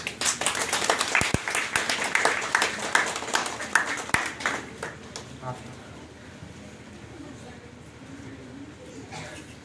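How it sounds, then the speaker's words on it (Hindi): A wedding crowd claps in scattered bursts that peak early and then fade into quieter murmuring talk. "ताली बजाइए।"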